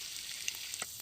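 Country chicken sautés with chili and coriander powder in a pan for a village-style curry, giving a close, steady sizzle and frying hiss with a few faint stirring clicks.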